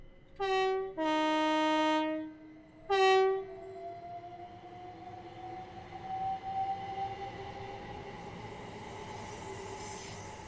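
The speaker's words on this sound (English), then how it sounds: "we'll let the train go off into the distance" A Class 375 electric multiple unit in Train Simulator 2020 sounds two loud horn blasts, then its motor hum rises in pitch as it pulls away, fading steadily into the distance with no talk.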